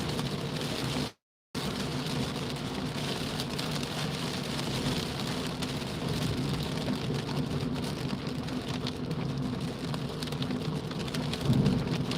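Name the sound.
heavy rain while driving in a car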